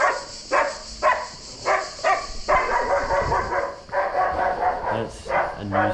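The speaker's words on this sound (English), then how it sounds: "There's an unhappy dog, but he's been tied up." A tied-up dog in an abandoned Soviet building barks repeatedly in short, loud bursts with brief pauses, plus a few whimpering yips near the end.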